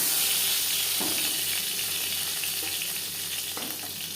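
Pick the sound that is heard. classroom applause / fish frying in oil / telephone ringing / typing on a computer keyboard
fish frying in oil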